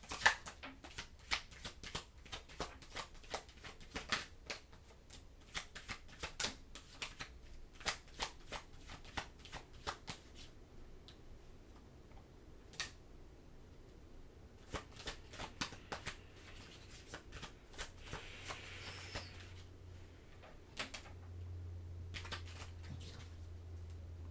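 Tarot cards shuffled by hand, giving a long run of soft, quick riffling and slapping bursts that stay fairly quiet, with a low background hum and no talking.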